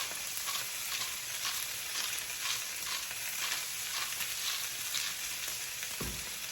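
Meat sears in a hot pan with a loud, steady sizzle that crackles and pops continuously, ending in a short low thud near the end.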